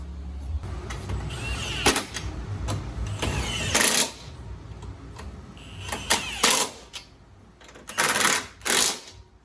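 Suspension bolts being tightened on a 2023 Mustang with a power tool, several short loud bursts of rattling impact separated by pauses, close up.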